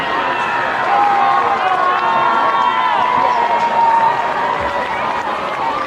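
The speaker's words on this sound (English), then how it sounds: "Crowd is getting into it here." A crowd at a high school football game between Franklin County and East Hamilton keeps up a steady, dense roar of cheering and shouting, holding level throughout with a slight swell near the end.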